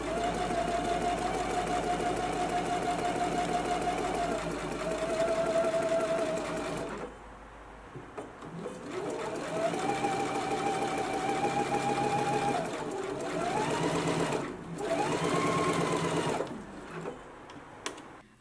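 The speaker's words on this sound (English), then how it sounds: "finish off my hems for the top as well as for the" A sewing machine stitches the hems of a loungewear top with a twin needle, running in a steady close whir for several seconds, then in shorter runs after a brief stop.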